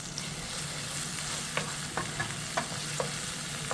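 Tomato paste stirred into tomatoes frying in a pan: a steady close sizzle with a few soft scraping stir strokes spaced across it, no voices.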